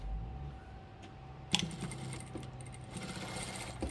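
A sewing machine stitches a false hem onto trousers with quiet, steady mechanical clatter, close by and fairly faint, with a sharp click partway through.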